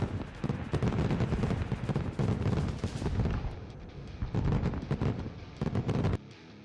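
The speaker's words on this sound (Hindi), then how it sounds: "आसमान में आतिशबाजी के नजारे ने काशी को एक अलग ही भव्य छटा दे दी।" A fireworks display bursts in the sky over Kashi, with a dense, continuous barrage of loud crackling explosions and booms that thins briefly before resuming, then drops off at the end.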